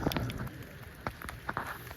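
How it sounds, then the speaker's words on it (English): Rain falls outdoors in a light, irregular patter of separate drops tapping nearby surfaces, faint and brief. "it started raining on me"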